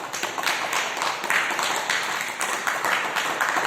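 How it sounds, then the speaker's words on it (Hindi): A group claps for Brij Mohan ji at a yoga gathering, with steady, fairly loud applause lasting the whole stretch. "तो इसके लिए आप सब लोग एक बार फिर से ब्रज मोहन जी के लिए ताली बजा दें"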